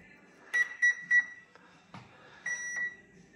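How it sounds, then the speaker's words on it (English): An FMS Suzuki Jimny 1/6 scale RC model car's electronics beep quietly, with three short beeps in quick succession, a pause, then two more. "See how long it takes? And then it goes beep."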